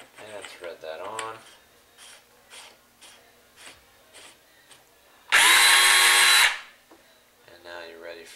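A PT-4000 blind bolt installation tool retracts in one loud, sustained pneumatic burst lasting about a second, preceded by quieter clicks and handling noises, with a voice speaking briefly before and after.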